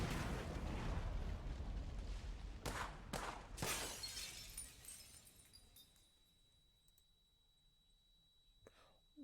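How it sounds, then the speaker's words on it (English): A loud explosion with shattering, breaking glass in a visual novel game, a heavy rumbling blast and several sharp crashes that fade into a long, quiet tail, with faint whispery voices under the sound. "was that a freaking explosion and gunshots?"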